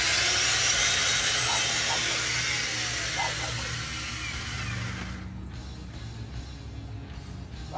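A Ryobi earth auger whirs and grinds while drilling into hard ground, a busy motor drone with scraping that fades to a quieter, choppier spin toward the end.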